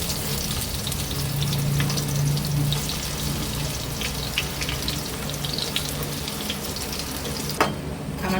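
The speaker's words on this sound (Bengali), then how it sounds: "আমার কিন্তু এগুলো সব ভাজা হয়ে গেছে" Garlic chops frying in hot oil, a steady close sizzle running throughout with faint clinks and scrapes, no voices.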